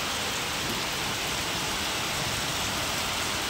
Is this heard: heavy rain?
yes